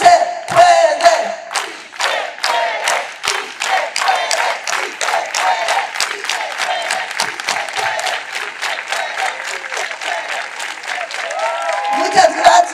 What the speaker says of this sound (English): let's do it all together with an organized hand clap